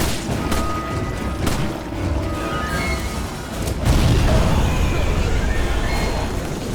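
A deep, booming blast rumbles in Resident Evil 5 in the middle of a noisy scene, with voices talking over the steady background din.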